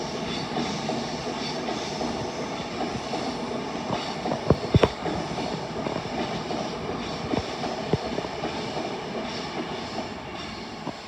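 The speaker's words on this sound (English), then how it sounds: "Here comes 390-124 to Manchester Piccadilly." A Class 390 electric train bound for Manchester Piccadilly passes on a North London line, a loud sustained rushing roar with a few sharp rail clicks and clanks partway through.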